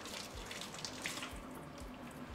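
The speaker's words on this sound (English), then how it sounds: "So we lathered up some soap, and then we're just gonna rinse." Cool tap water runs steadily into a sink while makeup brushes are rinsed after lathering with soap, a continuous close splashing hiss with no talk.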